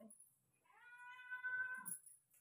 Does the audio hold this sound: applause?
no